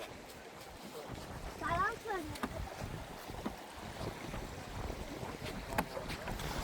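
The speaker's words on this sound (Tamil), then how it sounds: "ஓ காற்று தானே" Wind blowing across a village pond where fishing boats sit on the bank, a steady rushing gust close to the microphone while people talk over it.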